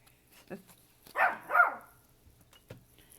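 A dog gives two short barks close by, sandwiched between brief quieter noises in an otherwise quiet room.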